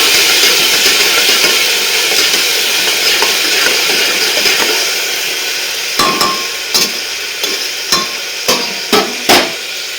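A spice mixture for pea rice gets stirred in a pan: steady frying sizzle and hiss, then a run of sharp, regular scraping knocks from the spoon against the pan, close and loud.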